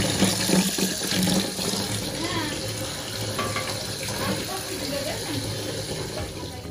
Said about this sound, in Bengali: প্রথমেই ডিমগুলো ভালোভাবে পরিষ্কার করে ধুয়ে আমি সেদ্ধ করে